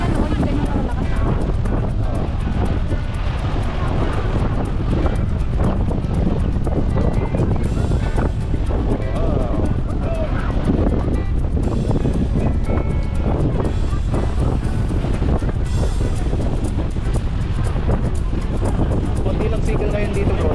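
Strong wind at the seaside in Mielno, Poland roars and buffets the microphone continuously, a loud steady rush with gusts, with voices faintly talking beneath it.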